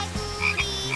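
A frog croak sound effect plays as a short run of low, rattling croaks, close and clear, with no talking over it.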